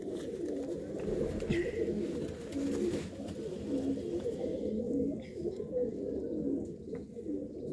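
Pigeons coo steadily in low, repeated rolling calls, close by and continuous, with a Chinese hen pigeon among the birds being handled; faint background noise sits beneath.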